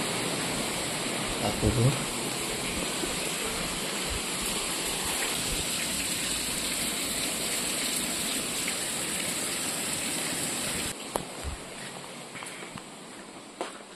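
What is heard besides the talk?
heavy rain falling outside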